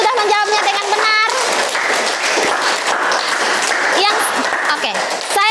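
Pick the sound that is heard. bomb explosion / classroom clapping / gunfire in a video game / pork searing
classroom clapping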